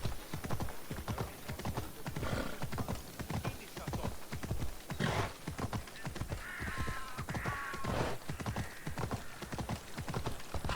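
Horse hooves clip-clop in a steady, rapid rhythm in a video game, close and prominent, with crow-like caws and a brief whinny rising over the hoofbeats.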